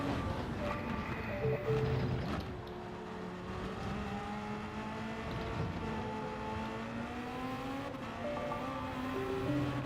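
A Porsche race car engine in Gran Turismo 7 roars and shifts pitch as it accelerates and downshifts, with tire noise and faint background sounds.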